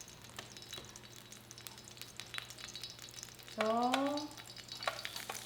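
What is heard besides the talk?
stir-frying onion, shiitake, carrot and bean sprouts in oil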